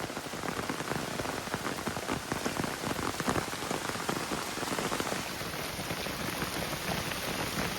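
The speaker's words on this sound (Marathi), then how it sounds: "मोठोच पाऊस इलो" Heavy monsoon rain pours down in a forest, a dense, loud, continuous hiss of drops striking leaves and ground with no break.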